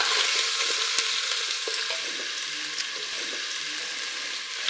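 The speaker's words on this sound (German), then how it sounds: "Und dann tun wir mit Gemüsebrühe ablöschen. Hörst du das, wie schön?" Steady hiss of vegetable broth sizzling in a hot pan, with faint clinks and stirring scrapes, continuous and close, no voices.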